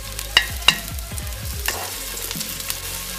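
Onion sautéing in a tablespoon of hot oil, steady close sizzle with sharp spatula clinks and scraping strokes against the pan early on, then continuous frying hiss, no voices.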